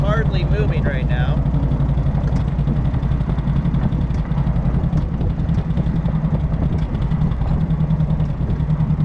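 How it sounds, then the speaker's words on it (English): A 1950s-era MG TD roadster engine runs steadily at about 1500 RPM, a constant low drone close by while someone talks over it. "The engine doesn't seem to want to rev any higher than that."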